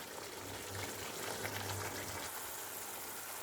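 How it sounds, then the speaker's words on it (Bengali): Water poured into spice masala frying in oil for a bata fish curry sets off a steady, dense hiss and bubbling that holds evenly throughout, close to the pan. "তো এখানে অল্প একটু জল দিয়ে দেবো।"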